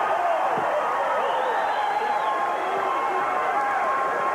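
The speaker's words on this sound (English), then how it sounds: "Look at the roar of the crowd." Wrestling arena crowd roaring during a six-man tag match, a dense sustained wall of cheering and shouting with scattered claps, loud throughout, with a commentator's voice running over the noise.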